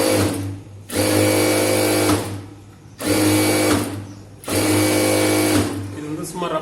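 A sewing machine stitches a blouse sleeve in three long bursts of steady, loud whirring, each separated by a short pause.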